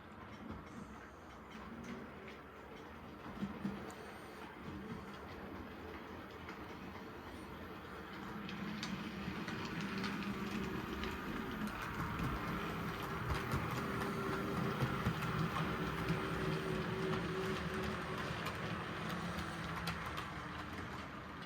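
A model train rumbles steadily along its model railway track, the running noise swelling a little louder and closer partway through, with no talking.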